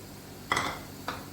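A spoon stirs yogurt into beef keema in a pan: two short, quiet scrapes against the metal, about half a second apart, in an otherwise hushed kitchen.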